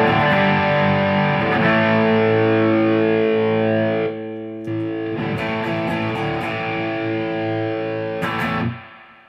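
An electric guitar played through a Bad Monkey tube overdrive pedal gives thick, distorted chords that ring out in two sustained phrases, loud and close, with no talking over them.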